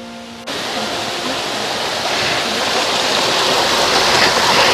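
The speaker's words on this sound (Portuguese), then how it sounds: "E aqui, todo lugar, é o barulho dessa água correndo." A steady, loud rush of running water from a stream flowing through vegetation near Torre Miroku, a dense continuous splashing wash that starts abruptly and fills the scene without pause.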